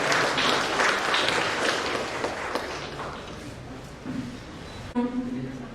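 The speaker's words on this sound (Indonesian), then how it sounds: "Mari kita berikan tepuk tangan yang mulia." Audience applause at a vocational school event, a broad crowd clapping that fades over several seconds as a voice starts speaking near the end.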